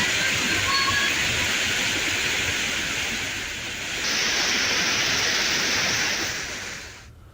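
Water overflowing at Tapti Sarovar, the source lake of the Tapti river, after heavy rain: a steady, loud, broad rushing roar that holds throughout and then cuts off abruptly.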